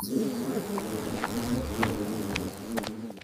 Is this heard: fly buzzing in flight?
yes